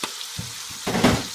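Star anise, chopped onions and chili hit a hot pan, with a brief low clatter followed by a swelling, close sizzle of frying over the last half-second.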